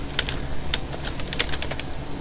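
Quick, light keystrokes tapped on a computer keyboard while entering data into a point-of-sale order form, a short irregular burst of clicks heard close and alone with no talking.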